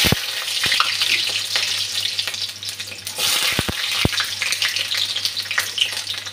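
Garlic sizzles and crackles in hot oil for a chicken dish, a steady close frying hiss broken by a few sharp clicks and knocks of a pan or utensil.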